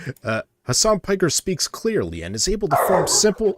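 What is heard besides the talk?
dog barking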